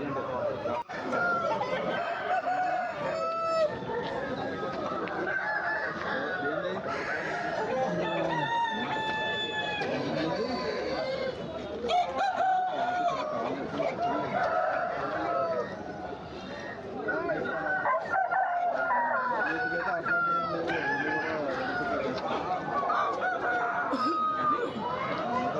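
Aseel roosters at Erragadda Sunday market crow repeatedly in a bustling crowd, with clucking fowl, background chatter and people talking nearby.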